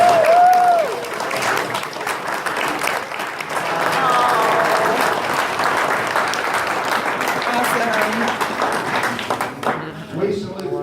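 Steady audience applause fills a hall honoring Negro league baseball players, a broad wash of clapping that swells and holds for about ten seconds, with a voice and some music-like tones threaded underneath.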